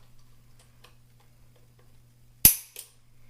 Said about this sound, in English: since we have the snap caps in there, let's go ahead and check the trigger pull on the gun